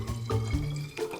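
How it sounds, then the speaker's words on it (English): Water is poured into a bottle to rinse it, making a close, continuous gurgling fill with shifting tones and a brief lull near the end. "So let's add some water"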